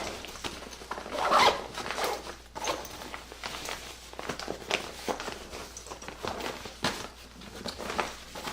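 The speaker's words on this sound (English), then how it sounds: "let me go ahead and zip this back up" Zipping closed a Mountainsmith Continental travel bag, a run of short scratchy rasps and rustles at close range, repeating irregularly with fabric handling and no talk.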